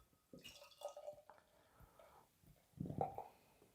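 Monkish Brewing Street Sweeping triple IPA poured into a glass: faint, quiet trickles and drips, then a brief, fuller splash of liquid near the end, heard close up with no talking.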